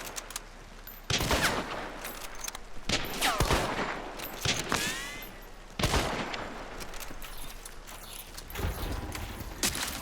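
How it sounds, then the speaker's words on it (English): Gunfire in the video game Hunt: Showdown, with a Mosin Nagant sniper rifle among the weapons: several loud, sharp shots scattered across the stretch, some close and some more distant, over a steady background of game ambience. "people shooting me, they're still shooting me from that angle"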